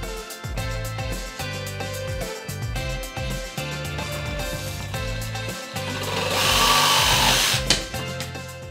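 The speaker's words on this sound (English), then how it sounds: "if you want to cut a round material, pendulum setting 1 is ideal" A Ryobi 18V ONE+ cordless jigsaw cuts round material on pendulum setting 1, giving a steady buzzing, rattling saw drone throughout with a brief rise in hiss and intensity near the end.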